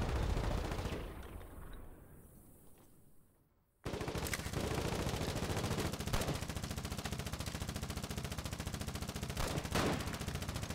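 Machine gun in the war video game Foxhole fires long rapid bursts. The first burst fades out and breaks off into a brief silence, then a loud, continuous stream of rounds resumes and runs to the end.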